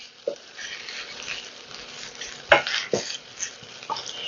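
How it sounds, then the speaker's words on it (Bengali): A green chili fries in a pan, with a few spaced scrapes and taps of stirring over a faint, soft sizzle. "একটা কাঁচা লঙ্কা আমি দিয়ে দিলাম। এটাকে একটু লাল করে ভাজতে হবে।"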